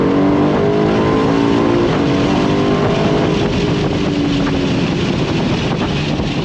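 A 2024 Aston Martin DB12 Volante convertible downshifting and pulling hard under throttle, its engine note loud and close and climbing steadily, with strong wind buffeting over the open cabin and no talking.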